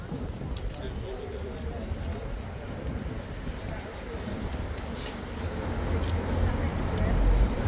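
A horse's hooves clop on a city street near a gas lamp among tourists, a soft uneven clatter beneath steady background chatter and someone talking, with a rumble of traffic swelling toward the end.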